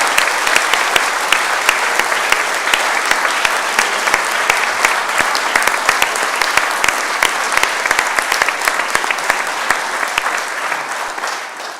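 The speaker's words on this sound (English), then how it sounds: "Please can we give them a big round of applause." Loud, dense applause from a graduation ceremony audience, many hands clapping continuously and evenly for the whole stretch with no talk over it.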